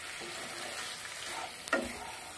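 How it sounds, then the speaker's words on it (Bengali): Curry being stirred and fried in a pan over lowered heat, a steady close sizzle with a brief louder scrape of the spoon near the end, no voices. "কমিয়ে আস্তে আস্তে সমানে কষাতে থাকবো তরকারি।"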